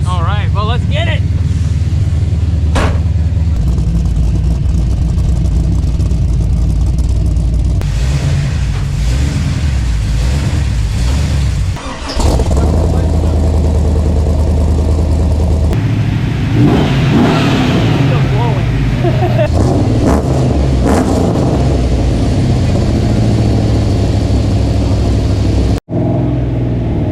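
A project car's engine roars and revs hard through a long dyno pull, loud and sustained, with people talking over it.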